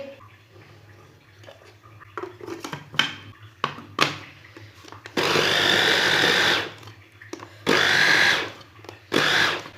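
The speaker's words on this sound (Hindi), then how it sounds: "अब इसे ग्राइंड कर लेंगे।" A kitchen mixer grinder grinds boiled, cooled spinach leaves in short loud whirring bursts, with quieter clinks and handling noises between the runs.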